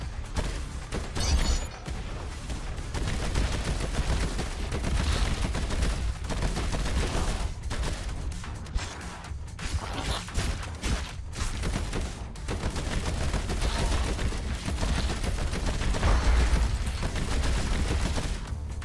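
Assault rifle fire in the shooter game Dreadhunter, dense, loud bursts of rapid gunshots packed almost continuously, with brief gaps and a few heavier impacts, no talking.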